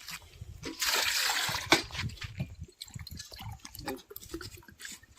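Water splashes and pours into a bucket in a village, starting as a fuller gush and breaking into uneven drips and trickles, close and moderately loud.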